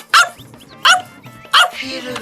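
Three sharp barks imitated by a person's voice, loud and close, spaced about every second with a softer trailing vocal sound after the last.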